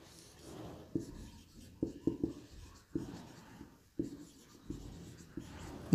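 A teacher writes on a classroom board during a biology lesson on populations, with close, irregular tapping and scratching strokes in short clusters and quiet pauses between them.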